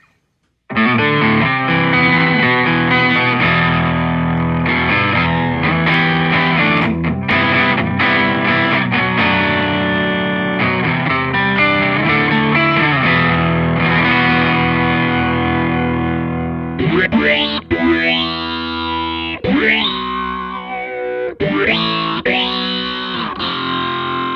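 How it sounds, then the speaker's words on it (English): Sustained guitar chords pushed through a heavy distortion pedal on a basic fuzz setting, loud and saturated, ringing continuously with changing chords and a few sliding, swooping notes toward the end; no voices. "You can actually get by putting that through this heavy distortion, which just sounds like total garbage on your basic fuzz."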